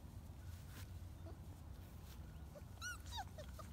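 Four-week-old British Labrador puppies whimper faintly, giving short high squeaks and yips late in the clip over a low background rumble.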